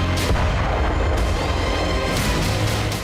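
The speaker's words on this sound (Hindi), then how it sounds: "जिसके बीच बीच में धमाके हो रहे थे" Explosions at a burning weapons depot in Makiivka: a continuous loud rumble of fire and blasts, with heavier booms breaking through near the start and end.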